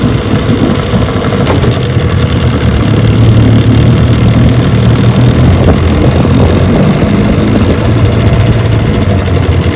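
A 1968 Johnson 9.5 HP outboard motor idles in a continuous low, even drone, loud and close, with a steady level throughout and no voices.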